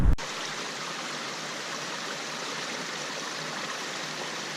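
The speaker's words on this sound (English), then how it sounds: "water never comes straight down. Comes down at the angle of the rock" Water pouring down a rock face along the Appalachian Trail between Rockfish Gap and Reed's Gap, a steady close rushing hiss that holds constant after a brief bump at the start, no voices.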